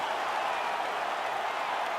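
Arena crowd cheering and applauding after a UFC fight finish in the UFC 5 video game, a steady, even wash of cheering and clapping that stays level throughout.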